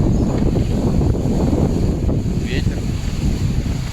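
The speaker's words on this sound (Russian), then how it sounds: "Ветер строго в спину" Steady wind roars across the microphone aboard a sailboat crossing the Atlantic Ocean, a constant low rushing with a faint wash of sea beneath it, close and unbroken.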